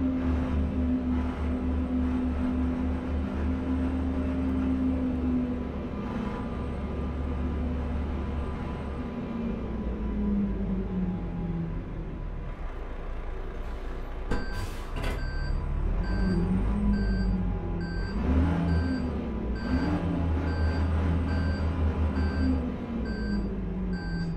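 A Renault Magnum truck engine drones steadily in Euro Truck Simulator 2, hauling a 22-ton container load, with a low rumble whose pitch shifts as the truck changes speed, and short beeps near the end.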